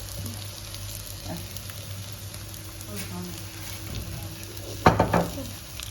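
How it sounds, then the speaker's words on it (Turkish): Food frying in two pans with oil, giving a steady low sizzle throughout, joined by a few sharp utensil clatters near the end; a voice is faintly present in the background. "İki tane tavada pişiriyoruz."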